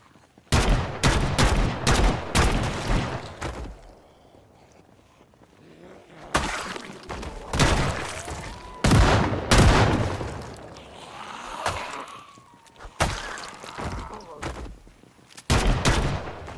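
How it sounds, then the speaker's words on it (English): Several sharp gunshot bursts from the zombie survival game Project Zomboid, loud and close, fired in irregular clusters with brief quiet gaps between volleys. "all the gunshots had attracted more zombies"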